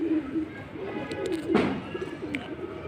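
Pigeon cooing nearby in soft, low repeated coos over a background murmur, with a brief sharper sound in the middle.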